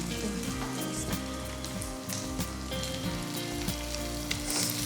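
Pepper chicken sizzles and fries steadily in a pan as chopped coriander goes in, a dense, continuous crackle with small stirring scrapes, close and loud with no talk.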